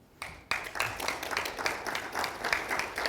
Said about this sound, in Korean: 여러분들이 이제 박수로 동의를 표해 주시면